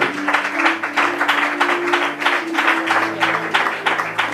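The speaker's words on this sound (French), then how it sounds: "Si tu veux acclamer, tu acclames." Church congregation clapping in a steady, rhythmic beat, loud and close, with a sustained sung or voiced tone running beneath the claps throughout.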